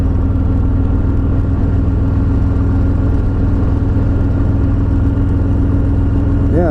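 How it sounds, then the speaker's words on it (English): Steady road roar from the tires of a 2018 Harley-Davidson Fat Boy at cruising speed, a loud continuous low rumble and whir mixed with engine drone and wind, unbroken throughout. "that's a tire noise"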